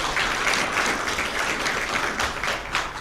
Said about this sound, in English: A better clap for the sponsor.